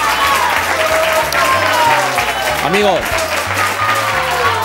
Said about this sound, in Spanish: Un aplauso para Manolo.